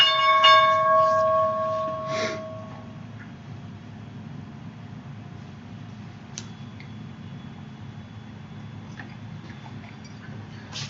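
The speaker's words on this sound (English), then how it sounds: "and there's the bell." A stock market opening bell rings loud and clear for about two seconds, its sustained metallic tone fading out into quiet background hum at the start of a live trading session.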